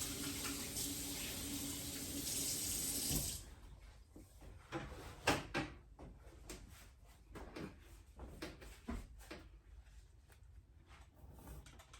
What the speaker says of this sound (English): So what I'm going to do is rinse my hands off.